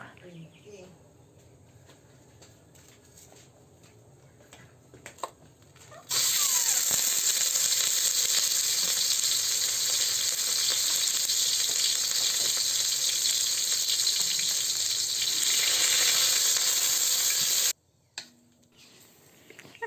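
Ground chicken drops into hot oil in a pan over medium heat and sizzles loudly and continuously for about twelve seconds before cutting off, after a quieter stretch beforehand.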